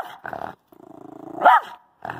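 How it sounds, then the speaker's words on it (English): A dog gives a run of growly barks and woofs, rough and close, in a few clustered bursts with a louder yelp-like rise near the middle and short gaps between. "I want you to give them a six woofs."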